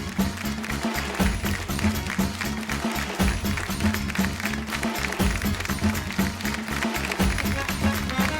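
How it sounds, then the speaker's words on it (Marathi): A studio audience on a Marathi television show claps in a steady, rhythmic, sustained burst, the applause even and moderately loud throughout with no pauses. "एका जोरदार टाळ्या होऊन जाऊ दे"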